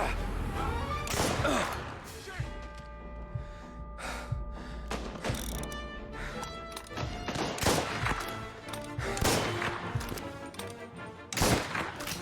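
Shotgun blasts in Mafia: Definitive Edition, fired across a street: several sharp, loud bursts scattered irregularly through a busy game mix of music and ambient sound.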